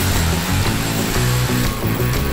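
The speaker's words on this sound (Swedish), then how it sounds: "du kan inte borra när vi andra jobbar" A power drill running in an office, a loud, continuous whirring grind with a rapid pulsing pattern and slight pitch shifts, close by and alone for a couple of seconds.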